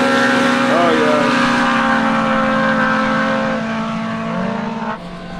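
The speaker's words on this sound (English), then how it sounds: "this car that he just took off in is low boost, 8 pounds" A low-boost UTV race car running 8 pounds of boost launches at a drag event, its engine a loud, steady droning whine that holds and then drops off sharply as it pulls away.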